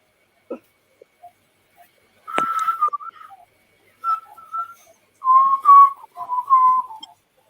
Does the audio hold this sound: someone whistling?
yes